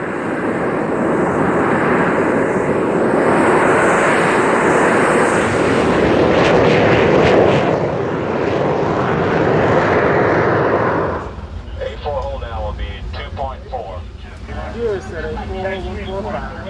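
A Navy airplane's engine roars loud and steady during carrier landing practice, the broadband drone holding for about eleven seconds before dropping away, after which faint voices and chatter continue over a lower background rumble.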